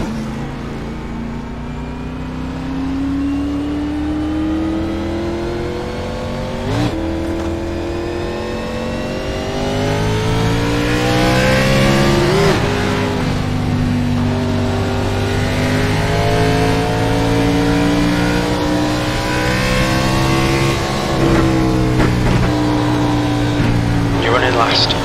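Stock race car engines roar around the short Bristol oval in the iRacing simulator, pitch climbing and dropping repeatedly as cars accelerate and lift through the banked turns, loud and continuous with a radio spotter talking over them.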